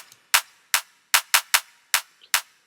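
A clap sample with a shortened, clipped tail sounds in a loose rhythmic pattern of seven sharp, dry hits, alone with no talk.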